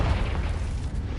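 A booming spell explosion from the Confringo curse in the Hogwarts Legacy video game, a loud, continuous low rumble lasting about a second with no talk over it.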